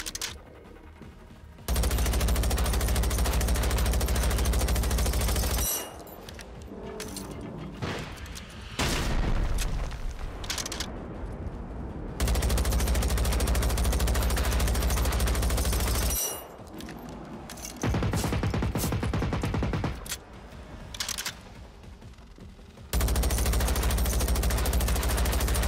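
Sustained bursts of automatic gunfire in the video game Generation Zero, loud dense volleys lasting several seconds each, separated by brief lulls and sharper scattered shots.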